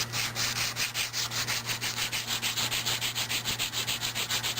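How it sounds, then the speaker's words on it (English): Fine sandpaper rubs rust off the tine shaft of a Husqvarna 600 CRT tiller in quick, even back-and-forth strokes, about four per second, close up with no talking. "Do this like once a year or so with some finer sandpaper with a memory cloth."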